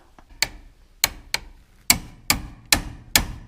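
A sledgehammer strikes a solid object seven times during work on a Square Body Chevy, each blow a sharp, loud impact with a short ringing decay, spaced irregularly about half a second apart with no talk.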